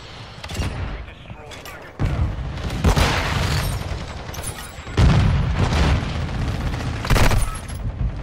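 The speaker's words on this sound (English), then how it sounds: "You got a machine gun on a turret." Turret-mounted machine gun firing in Modern Warfare 2 gameplay, heard as loud bursts and booming blasts recurring every second or two over continuous rumbling battle noise.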